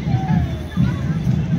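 A dense crowd at India Gate on Kartavya Path fills the air with a steady murmur of many overlapping voices, a close, continuous babble with no single voice standing out.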